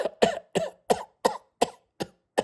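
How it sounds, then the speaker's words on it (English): A series of about eight sharp, close coughs comes in a steady rhythm, each a short harsh burst separated by brief silence, with no talk over it. "That cough just earned you an additional charge."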